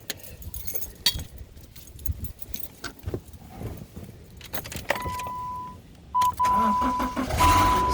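A 2014 Subaru Legacy starting after a rear brake pad and rotor replacement: keys jangle and a steady chime sounds, then the engine cranks and catches in two short bursts close to the listener.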